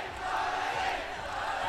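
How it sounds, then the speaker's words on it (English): Live esports crowd cheering at a League of Legends tournament match, heard from just outside the broadcast room as a steady, dense roar that holds at a moderate level throughout. "the crowd here just outside our door"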